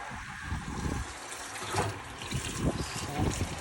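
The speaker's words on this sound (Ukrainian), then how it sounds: "Водичка тече." Water flowing from a newly drilled shallow well about 12 metres deep, a continuous splashing gush close by with uneven surges, heard alone without talk.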